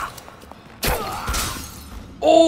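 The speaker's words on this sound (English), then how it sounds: "Oh, the glass broke." Glass shatters in the video game Dishonored, a single sharp crash that rings out and fades amid quiet game sounds, followed by a bright tonal game effect.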